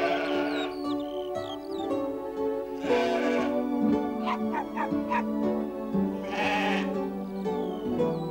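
Sheep bleat repeatedly in a flock, some calls near and loud and others overlapping in the background, over a steady ambient bed.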